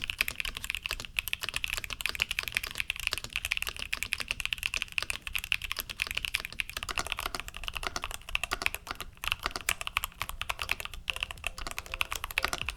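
Rapid, continuous keyboard typing with dense clicky keystrokes, steady and close, no voices.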